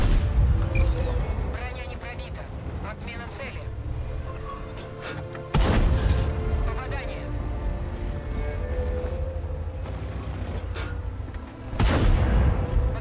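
A World of Tanks tank gun firing gold shells booms in loud, heavy blasts, with several big shots spaced through a rumbling battle bed and a person talking over it.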